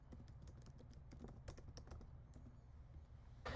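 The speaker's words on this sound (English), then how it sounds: "I'm typing in the conclusion at the bottom of my writing space." Typing on a computer keyboard, a quick irregular run of light close key clicks with small pauses, fairly quiet and without speech.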